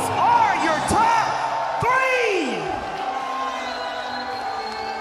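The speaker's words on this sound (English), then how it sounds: "Guys, you aren't cheering loud enough." A large crowd at a Fortnite esports tournament cheers and roars with whoops and bursts of applause, loud at first and fading slightly, while a voice calls out over the noise.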